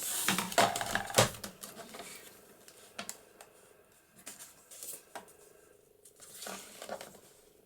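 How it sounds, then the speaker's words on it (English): Paper folds on a Christmas journal pocket embellishment being trimmed with scissors, a quick burst of close snips and crisp rustles at the start, then scattered single cuts and paper handling in an otherwise quiet room. "so let's just trim that off and neaten it up."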